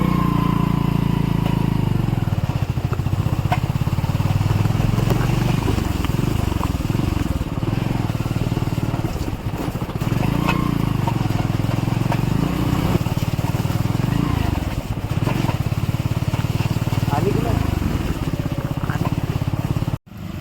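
Motorcycles ride off-road along slippery, muddy narrow roads through forest, engines droning loudly and continuously with repeated surges and dips in revs for about twenty seconds before cutting off abruptly.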